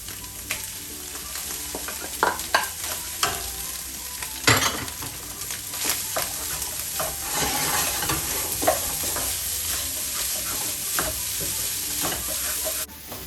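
Chicken fried rice is stirred and tossed in a hot, wide pan, with a steady sizzle and irregular scraping clinks of a spatula against the metal.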